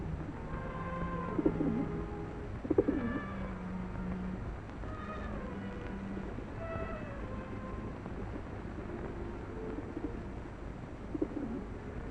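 A pigeon coos in soft, repeated rolling phrases, several calls spread across a quiet outdoor scene, moderately close, with no talk.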